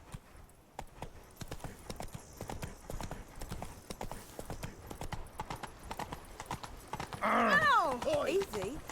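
Roach, a horse in a video game, gallops with rapid, steady clip-clop hoofbeats throughout, and a loud, wavering whinny rises near the end.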